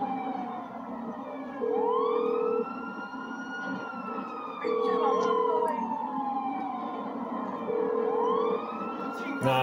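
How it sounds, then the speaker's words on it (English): A police car siren from the GTA 5 video game wails in repeated rising and falling sweeps over a low engine rumble, with short steady tones cutting in at regular intervals. "Did another police car show up?"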